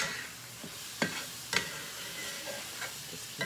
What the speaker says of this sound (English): You're going to fry up your squash for about 10 minutes